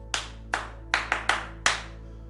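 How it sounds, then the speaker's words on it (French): A single person clapping hands six times in an uneven rhythm, with two quick pairs near the end. The claps are close, sharp and alone, with no talk over them. "Voilà, j'ai applaudi."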